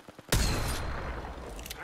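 Loud, sustained gunfire erupts in an Apex Legends battle royale match, a dense, rattling volley that bursts in suddenly after a few soft taps and keeps going without a pause.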